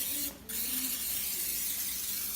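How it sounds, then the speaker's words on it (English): A short hiss of cooking spray sprayed onto a hot, steaming corn dog maker, one quick burst near the start, followed by a low, steady background hum. "And I'm going to just spray it."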